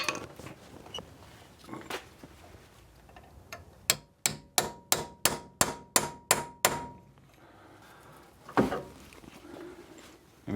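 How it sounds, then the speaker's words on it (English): A hammer strikes a small chisel on a stuck Dana 44 axle part, about ten sharp metallic blows in a steady, quick rhythm, close and clear, with a few scattered knocks before and after. "I'm gonna try this smaller chisel."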